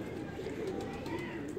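A pigeon near a breeding cage coos in low, soft, repeated murmurs, fairly close and steady, with faint background noise throughout.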